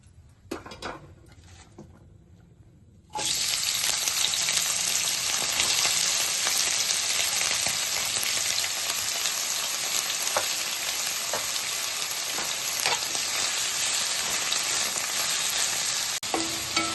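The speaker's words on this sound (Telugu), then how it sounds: "అదే కడాయిలో కొంచెం ఆయిల్ వేసుకొని ఇప్పుడు నల్లేరు కాడ వేపుకుందాం" Nalleru (Cissus quadrangularis) stems fry in oil in a kadai; after a quiet, faint opening, a loud, steady, close hiss of sizzling oil takes over and holds to the end.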